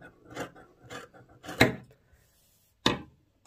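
Sweatshirt fabric being cut with scissors, a handful of separate close crunchy snips and rasping cuts with short pauses between them.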